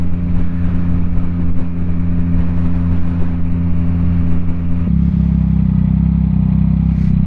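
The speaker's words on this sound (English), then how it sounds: "once I start getting up into the RPM range, yeah, it gets pretty loud" A loud vehicle exhaust drones steadily at high RPM, its pitch rising and the tone shifting as the engine climbs near the end, with no talk over it.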